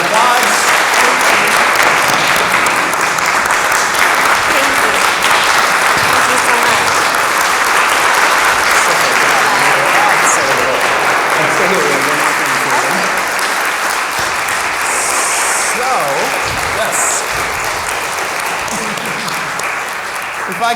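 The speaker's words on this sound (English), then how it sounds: "Let's give her another round of applause" An audience gives a loud, long round of applause for poet Ada Limón at an intimate evening event, thick continuous clapping close by, with voices speaking faintly underneath in the later part.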